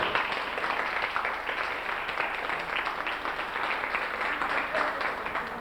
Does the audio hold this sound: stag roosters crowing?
no